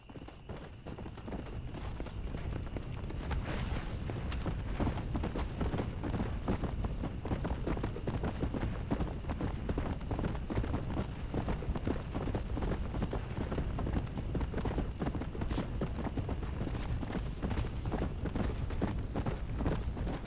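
Horse hooves clip-clop steadily and close throughout in the Red Dead Redemption: Undead Nightmare video game, a continuous riding rhythm over dense game background sound.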